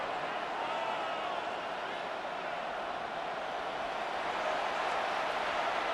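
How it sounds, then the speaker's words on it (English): A simulated stadium crowd in the Madden NFL 26 video game roars steadily and loudly on third down, an unbroken wall of cheering noise with no pauses. "This crowd into it now as we get to third down."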